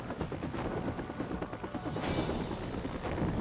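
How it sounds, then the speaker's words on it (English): A helicopter in the Batman: Vengeance game on GameCube gives a steady, dense rotor roar mixed with game effects and possible gunfire, loud and continuous throughout. "So we're running from a helicopter."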